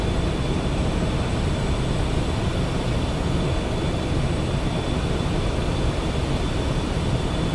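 A T-7A Red Hawk jet on a night ILS landing approach to runway 23 at Payerne military base, heard as a steady, loud broadband roar of engine and airflow with a faint whine, continuous throughout.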